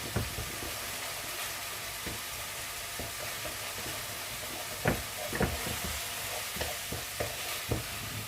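Canned meat stirred in a pan with the oil it has released, a steady low sizzle running throughout and a few sharp scrapes and knocks of the spoon against the pan in the second half.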